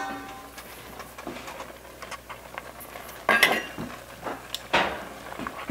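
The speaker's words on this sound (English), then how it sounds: "Stir that all around there." A spoon scrapes and clinks against a pot while stirring pot pie filling of mushrooms, corn and peas, with a few sharper metallic knocks standing out over a quiet, steady background.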